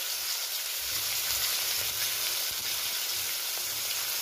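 Potatoes sizzle and fry steadily in a pan, with oil crackling continuously for a spinach potato curry cooked without onion or garlic; there is no talking.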